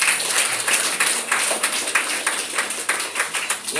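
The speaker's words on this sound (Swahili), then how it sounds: "Simama, mpige Bwana Yesu makofi." A church congregation claps hands for Jesus in steady, even rhythmic applause that fills the room, loud and continuous throughout.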